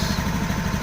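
Up close, a Honda automatic scooter engine idles steadily with a rapid, even low throb near 1600 rpm while its idle screw is being adjusted.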